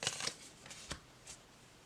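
Tarot cards are riffled in a quick burst of papery flutters at the start, followed by a few softer isolated flicks and taps, close and fairly quiet with no talking.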